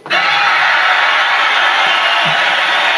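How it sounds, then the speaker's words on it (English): Loud, dense crowd applause and cheering that swells in at once and holds steady throughout, with no talk over it. "you're gonna hear a whole lot of applause"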